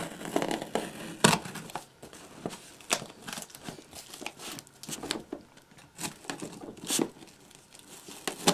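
Tearing and crinkling as the top of a mailed package for a very special old item is cut and pulled open, in a run of short bursts with a few sharper rips, close and moderately loud, with no voices.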